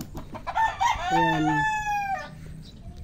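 A backyard rooster crows once, loud and close, with chickens clucking around it and a brief spoken word just before the crow.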